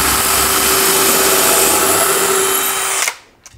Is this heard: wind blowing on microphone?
no